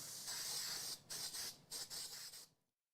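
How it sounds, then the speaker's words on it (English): Spray adhesive is sprayed onto a rug for wall mounting in a series of close, hissing bursts, a long one followed by several shorter pulses, then silence. "This is a spray adhesive."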